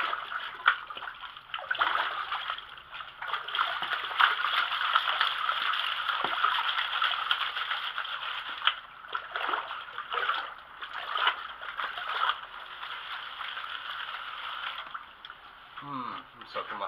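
Water swishes and sloshes continuously as dirt is washed in a gold pan outdoors at a mining site, with a steady wet hiss and gurgle that surges in waves, and someone speaking quietly over it.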